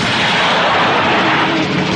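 A bomb planted in a car goes off in a film scene, a loud sustained roaring blast filling the whole moment, dense and close.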